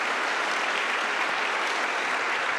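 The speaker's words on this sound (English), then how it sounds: "Huge round of applause, please." An audience applauds a speaker coming on stage at a lightning talks session, a steady, even wash of clapping that holds at the same level throughout without voices.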